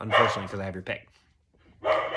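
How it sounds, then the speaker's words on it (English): Dogs bark indoors in short loud bursts, one at the start and another near the end, tangled with someone talking close by. "Sorry for the dogs."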